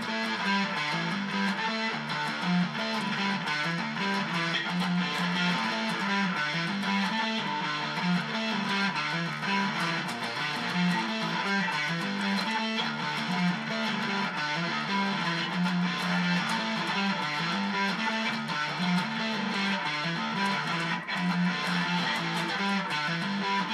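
A guitar plays the clean part of a song, a dense, continuous stream of ringing notes at steady volume throughout with no talking.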